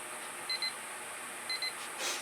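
A timer alarm beeps in two quick double pulses about a second apart, faint and high-pitched over a steady hiss in a painting studio.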